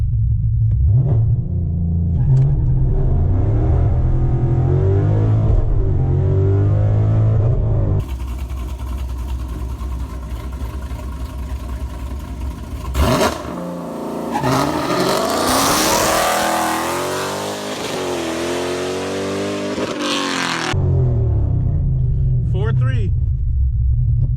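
Car engine on MT ET Street SS and Street R drag tires, held at 3,500 RPM with a loud steady rumble, then launching hard with a roaring, climbing acceleration that fades before the engine returns near and loud.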